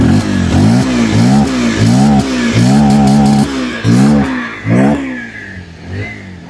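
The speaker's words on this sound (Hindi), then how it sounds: "एग्जॉस्ट साउंड नोट करते इसको हम लोग, गाड़ी करते स्टार्ट।" A Bajaj Pulsar 125 motorcycle idling in neutral then revved repeatedly, its exhaust rising and falling in close, loud, rhythmic surges with no talk over it.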